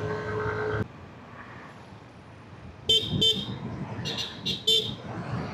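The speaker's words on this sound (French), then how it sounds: "ici, au fait, on klaxonne parce que c'est un truc ouais, pour avoir la chance sur la route" Several short car horn toots sound in quick bursts over windy road noise, after an earlier longer blare cuts off abruptly.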